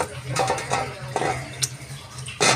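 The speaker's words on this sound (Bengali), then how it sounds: "এবার গরম জলে হাতটা ধুয়ে নেবে" Hot water running from a tap while hands are washed under it, a steady close splashing stream with brief rubbing and splatter bursts, no voices.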